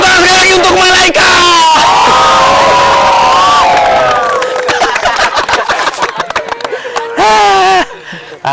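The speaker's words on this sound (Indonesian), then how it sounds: "Tepuk tangan sekali lagi untuk malaikat." An audience at an indoor gathering cheers and shouts loudly, with excited voices rising and falling over a dense crowd roar that stays strong before thinning into scattered yells and a final burst of cheering.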